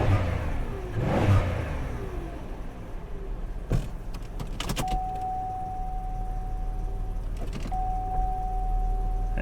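A salvage-auction car with an oily belt revs its engine and starts bogging down around 3,500 RPM. An early whirring sweep gives way to a steady engine drone with a sustained tone, plus a few sharp clicks, close by.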